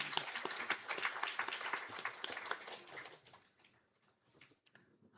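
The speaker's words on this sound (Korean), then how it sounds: "다시 한번 경계의 박수 드립니다." A Korean church congregation at a Sunday service gives a burst of dense clapping that fades out over a few seconds, leaving a few faint stray claps.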